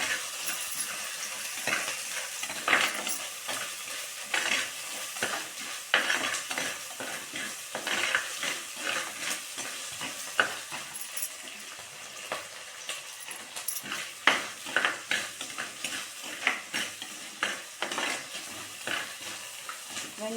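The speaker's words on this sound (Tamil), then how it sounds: "நல்லா வெங்காயம் பொரியட்டும்." Chopped onions fry in a hot pan with a little rock salt, giving a steady close sizzle broken by frequent scraping and clinking as a spoon stirs them.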